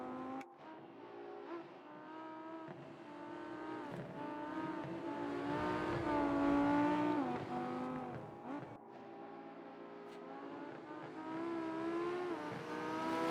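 GT3 race cars at the Nordschleife in the racing game RENNSPORT, engines droning and revving continuously with rising and falling pitch as cars run close together, loud and steady throughout.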